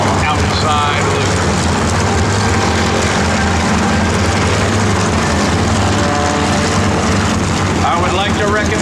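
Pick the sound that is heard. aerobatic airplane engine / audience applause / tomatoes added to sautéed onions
aerobatic airplane engine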